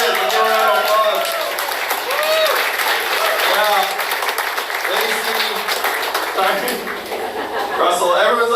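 Applause fills the room at a Detroit fundraiser speech, a dense and steady crowd clapping that lasts for several seconds while a voice talks over it.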